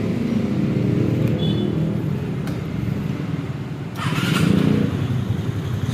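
Suzuki Skywave scooter with a fully rebuilt engine, idling close by with a low, steady rumble and a short rev partway through before it settles back.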